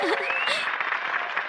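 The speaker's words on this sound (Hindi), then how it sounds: "इनके लिए तालियां बजाइए।" Applause in a Hindi-dubbed Shinchan cartoon after a dance, a dense crowd clapping that rolls on for about a second and a half with a voice briefly heard over its start.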